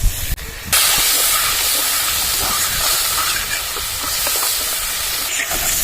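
Ginger and green chili paste with turmeric hiss loudly in a hot pan as water hits them, a sharp burst settling into a steady, close, bubbling sizzle for a raw banana dish.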